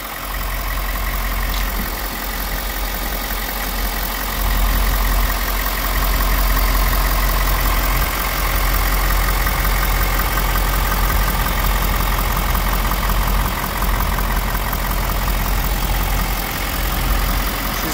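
A 6.7 liter engine idles with the hood open, a steady loud rumble and mechanical clatter that swells slightly partway through and holds without talk.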